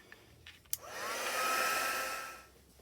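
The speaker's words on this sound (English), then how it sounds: "So now I'm going to dry the whole bunch with my heat tool." A heat tool blows hot air over a batch of altered playing cards, starting after a few small clicks and handling noises, swelling to a steady whooshing roar for about two seconds, then tapering off; no talking.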